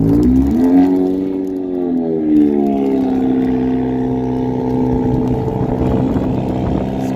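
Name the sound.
car engine struggling in snow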